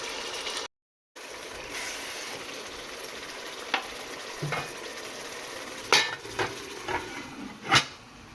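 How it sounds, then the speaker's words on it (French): Tomato simmering in a beef and vegetable sauce, with a low continuous sizzle and scattered scrapes and clinks of a utensil stirring against the pot. "Je vais laisser la tomate cuire au moins 5 à 7 minutes pour permettre d'éliminer l'acidité"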